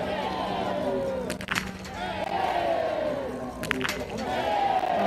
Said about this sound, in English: Oh, the crowd loving that